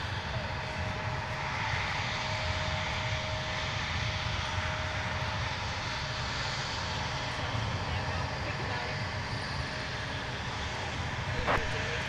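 A PSA Airlines CRJ900LR regional jet flying as American Eagle at Minneapolis–St. Paul airport gives off a continuous distant engine rumble and whine, fairly faint and steady, with someone talking over it.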